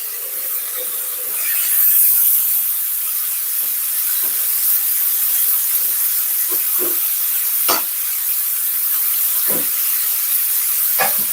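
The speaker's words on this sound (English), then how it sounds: "So I'm going to let out some of the steam out of this." Steam hisses loudly and continuously as it is let out of a cooking pot, a broad close rush broken by occasional small knocks and scrapes, with no voices.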